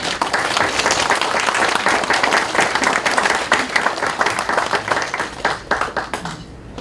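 An audience at a Korean church ceremony for a pastor's installation and the church's 37th anniversary applauds warmly for several seconds. The clapping is dense and steady at first, then thins out and fades at the end.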